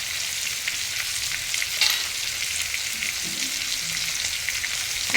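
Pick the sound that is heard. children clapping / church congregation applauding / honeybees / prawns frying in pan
prawns frying in pan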